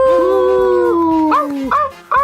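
A person imitates a dog, giving a long drawn-out howl followed by a few short yelping barks, loud and close, with no other talk.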